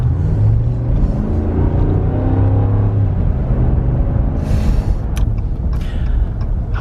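A 2020 RAM 1500 pickup with a 5.7 HEMI V8 drives along, a steady low engine and road rumble heard from inside the cab, with a few brief clicks and rustles near the end.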